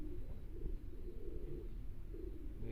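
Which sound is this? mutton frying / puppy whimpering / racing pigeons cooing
racing pigeons cooing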